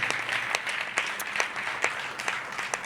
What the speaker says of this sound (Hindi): ताली बजा के प्रभु को महिमा दे।